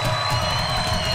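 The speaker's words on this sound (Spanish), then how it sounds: "Un aplauso para Amanda." A studio audience on a Colombian television talk show cheers and whoops for a guest named Amanda, a dense steady crowd roar filling the space without pause.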